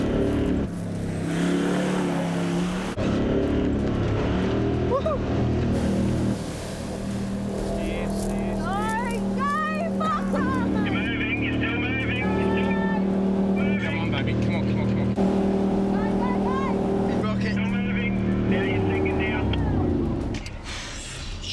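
A 4WD engine labours in third gear through a flooded Simpson Desert track, a sustained loud droning rev with splashing surges. People talk and shout excitedly over the engine throughout.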